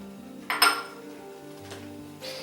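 Spoon stirring shrimp, spinach and jarred roasted red peppers in a pan over low heat, a couple of bright metallic clinks against the pan amid soft scraping.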